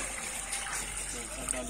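Water is poured from a pink mug in a short, continuous trickle and splash in a home, with chatter going on around it.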